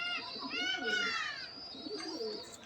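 Pigeons in a high-flying pigeon loft in Uluberia, Howrah, give soft, close, warbling coos and short calls in a couple of phrases, with faint voices in the background.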